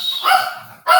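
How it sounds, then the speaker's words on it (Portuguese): Dogs at home bark in two short, loud, close outbursts separated by a brief lull, sounding like a small dog's sharp yips. "Meus cachorros estão em casa aqui, peraí."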